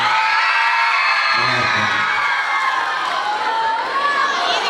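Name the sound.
fans cheering at a festival competition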